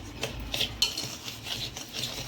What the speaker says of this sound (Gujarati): બધું મિક્સ કરી દઈશું.